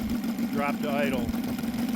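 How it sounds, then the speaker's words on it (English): An OS FR300 model radial engine drops to idle, a fairly quiet steady low hum with a brief rising tonal sweep, no speech. "Drop to idle."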